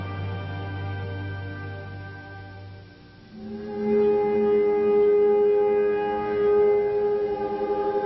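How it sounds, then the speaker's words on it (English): A civil defense siren in Israel on Holocaust Memorial Day wails loudly, a low tone shifting into a sustained higher rising pitch that holds steady and drones on. "When the siren sounds, the country comes to a halt."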